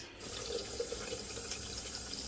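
Water runs steadily from a kitchen tap into a blender, a continuous close hiss and splash with no talking.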